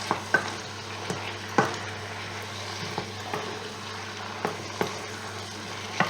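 Bolognese sauce cooks in a pan after tomatoes go in, giving a soft, steady sizzle with occasional sharp scrapes and taps of stirring. It is fairly quiet and close, with no talk.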